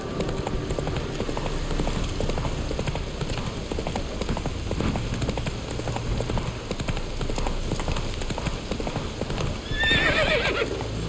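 Rapid, continuous hoofbeats from a galloping horse in The Witcher 3: Wild Hunt, close and steady under a light rain-like hiss, ending with a high whinny near the end.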